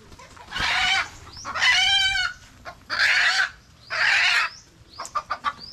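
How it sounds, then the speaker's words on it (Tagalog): A hen with chicks gives a run of loud, close squawking clucks in several bursts, followed by quick short clucks, with no talking. "Nakita pala yung manok ko na may sisiw"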